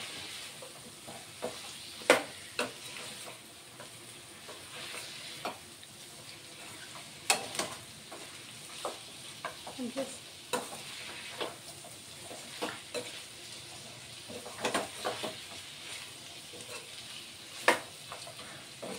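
Chicken fry sizzles steadily in a pan while a spatula stirs it, scraping and clattering in irregular sharp knocks over the constant frying hiss, close up with no voices.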